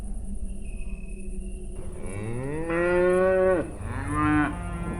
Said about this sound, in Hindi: अंधेरे में बाड़े की तरफ से आती हुई गाय की आवाजें थीं